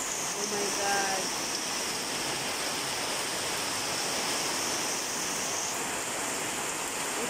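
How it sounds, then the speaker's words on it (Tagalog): Steady, heavy typhoon rain pouring down outside a house, a constant dense hiss with no letup, heard fairly close and moderately loud throughout. "Malakas yung ulan mo naman."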